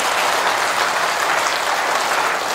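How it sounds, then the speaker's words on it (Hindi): A large crowd at a Hindu religious darbar claps with raised hands, giving a loud, continuous roar of applause with no talking. "ताली ऐसे नहीं बजाई जाती, ताली हाथ उठा के बजाई जाती है, और ये होती है ताली"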